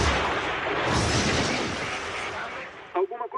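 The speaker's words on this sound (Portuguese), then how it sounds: "Nós conseguimos ouvir uma explosão no gravador de voz." An explosion on the JAL 123 cockpit voice recording, a loud broad burst of noise that rumbles and fades over a few seconds before a brief voice breaks in at the end.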